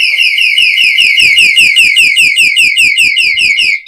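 A 125-decibel alarm device shrieks very loud and close, a rapid warbling electronic siren repeating steadily for several seconds before cutting off abruptly.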